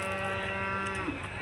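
Native cattle at a weekly livestock market in Tiruppur give a long, low moo, held loud and close for its whole length over constant crowd murmur.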